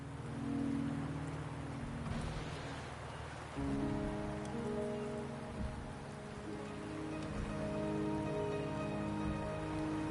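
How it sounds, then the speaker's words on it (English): Steady rain pours in the video game Wuthering Waves, a dense even hiss with occasional heavier gusts, continuous and fairly close with no talk over it. "The rain is subsiding, and the sky will soon clear."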